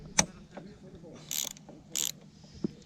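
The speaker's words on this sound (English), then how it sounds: "then I'll tighten them up with the ratchet" Ratchet wrench tightening bolts during a Hydrovane self-steering gear rebuild on a boat in Greece, heard as a few short mechanical clicks and bursts of ratcheting, close by and fairly quiet, with no talking.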